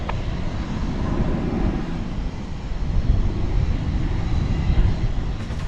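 An American Airlines jet at DFW Airport roars in a steady broadband rumble, loud and sustained throughout without rising or fading much, with no voices.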